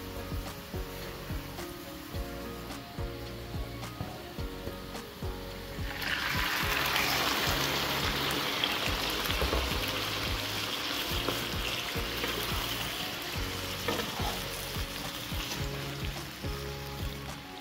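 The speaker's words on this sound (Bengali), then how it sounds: "এখন আমি দিয়ে দিব আগে থেকে সিদ্ধ করা সেই শাকগুলো।" Pre-boiled bottle-gourd leaves and greens are dropped into a hot pan with dried chilies and burst into a loud, steady sizzle that continues to the end over background music.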